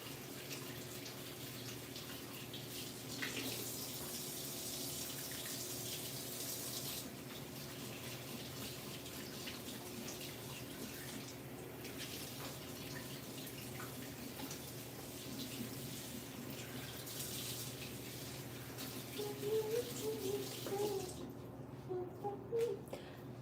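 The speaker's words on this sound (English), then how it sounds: "let me fill up the water bottle and then I'll sit down." Water runs steadily from a tap into a bottle, a continuous rushing flow held at an even level for over twenty seconds, with a few brief clinks and bumps near the end.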